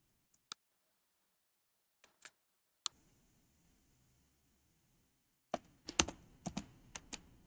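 Scattered keystrokes tap on a computer keyboard, a few isolated clicks at first, then a quicker flurry of typing near the end, close and quiet.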